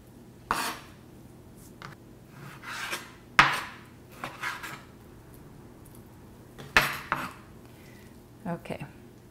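A knife cuts through a heart-shaped piece of meat on a board for mi xao don, giving several separate knocks and scraping strokes spread across the clip at close range, with kitchen clatter between them.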